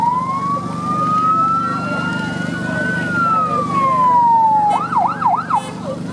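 A fire brigade emergency first responder vehicle pulls up at a rescue day demonstration with its siren wailing in a long rising and falling sweep. The siren then breaks into quick yelping warbles, loud and close, over a low engine rumble.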